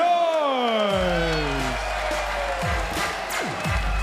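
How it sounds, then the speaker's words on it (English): A boxing arena crowd at a World Series of Boxing bout cheers and applauds as British Lionhearts boxer Joyce enters, a continuous roar beneath a ring announcer's long sweeping voice and loud music. "the London boy has the fans and crowd on their feet"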